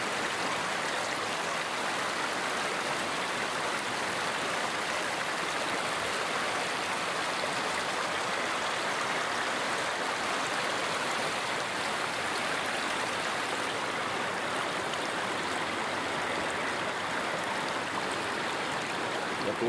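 A steady, continuous rush of flowing stream water, close and even throughout, with no voices.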